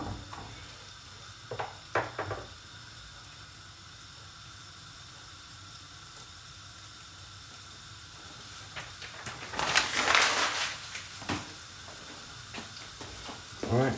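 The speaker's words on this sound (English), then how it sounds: "We hear that frying now." A Sichuan stir fry with broccoli and cashews fries in a pan over a gas stove, a low continuous sizzle broken by sharper crackling bursts, loudest near the end, with a voice speaking briefly.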